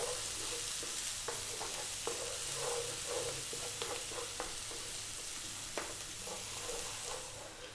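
Garlic, about a tablespoon, fries in a pan over medium heat while being stirred, giving a steady close sizzle broken by frequent scraping and clinking strokes of the spoon.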